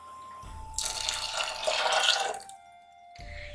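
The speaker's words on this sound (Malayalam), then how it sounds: "ഇനി ഞാൻ ഈ മിക്സിയുടെ ക്യാനിലേക്ക് 1 ഗ്ലാസ് വെള്ളം കൂടി ചേർത്തിട്ട് മുഴുവനും ആ അരപ്പും കൂടി" Water poured from a mixer jar into a pot of green gram curry, a close, steady splashing pour that swells for about two seconds and then trails off, with a brief return of sloshing at the end.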